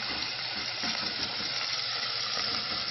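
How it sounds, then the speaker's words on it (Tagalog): Beef sears in a pan for beef rendang, making a steady, dense sizzle with an even hiss that holds at constant strength throughout. "Sear the beef until brown."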